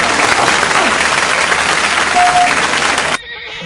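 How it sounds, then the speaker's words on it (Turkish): An audience gives loud, sustained applause for a poet on stage, a dense wash of clapping that cuts off abruptly near the end, leaving a quiet room. "Ama şairleri biraz daha alkışlamak gerekiyor bence."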